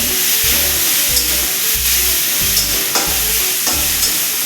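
Garlic, green chili and coriander paste sautés with cluster beans in a pan, a loud continuous sizzle broken by regular rhythmic scrapes of a spoon stirring every half second or so, with no voices.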